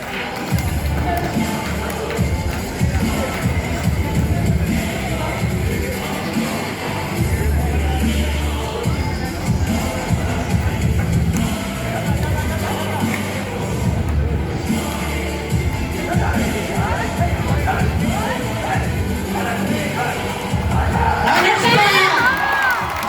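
Audience at a karate demonstration where performers break multiple boards, including ones set on fire, cheers and shouts in a dense, steady crowd roar with children's voices, and a brighter burst swells near the end.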